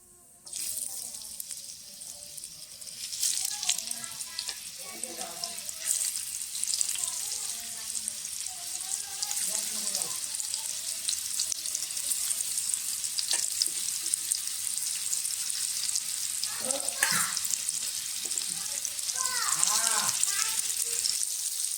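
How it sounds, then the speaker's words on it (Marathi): Marinated popat fish fries slowly over low gas on a flat iron griddle, giving a long, steady, close crackling sizzle. A voice is heard faintly in the background at a few points. "सर्व मच्छी आता तव्यामध्ये एकसारखी लावून घेतलेली आहे आणि स्लो गॅसवर कुरकुरीत अशी दोन्ही बाजूने फ्राय करून घेऊ आपण मच्छी"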